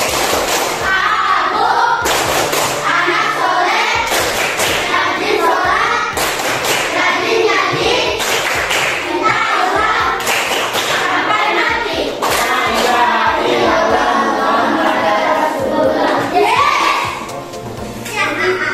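A class of children in an Indonesian school lesson claps in a patterned rhythm, loud and close, with sharp repeated hand strikes mixed with kids' chatter and voices throughout.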